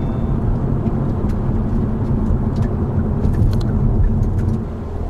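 A Hyundai Veloster N driving, its engine a loud steady low drone from inside the cabin with road rumble, easing slightly at the end, no talk.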